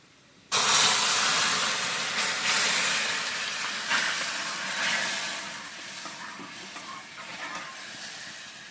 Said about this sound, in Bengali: এখানে এবার একটু জল মিশিয়ে